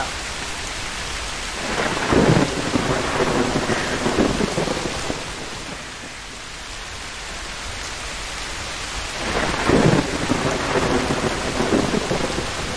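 Rain and thunder in the Bigfoot hunting video game: steady rain hisses throughout while two deep thunder rumbles roll through, one early and one near the end, with no talking.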